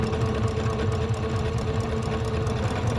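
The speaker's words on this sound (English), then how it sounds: "So I'm just going to sew these little sides together." Close and loud, a sewing machine runs continuously while stitching the fabric sides of a bowl cozy, its rapid rhythmic motor hum and needle chatter unbroken throughout.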